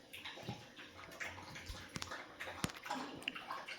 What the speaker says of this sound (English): Dog slurping some water.